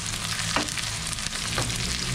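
Red onion and garlic sauté in a hot pan with a dense, loud, close sizzle, broken by a couple of quick scraping stir strokes, with no one talking.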